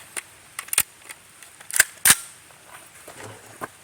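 A suppressed 10.3-inch AR rifle firing a .223 round, with sharp, dry suppressed reports and metallic clicks of the action cycling sluggishly, heard close among a few fainter handling taps.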